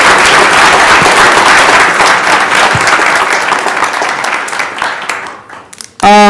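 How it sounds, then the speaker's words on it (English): A school board meeting audience applauds the high school tennis team with loud, dense clapping that gradually thins and fades, before a voice abruptly starts at the very end. "let's give them a round of applause for that"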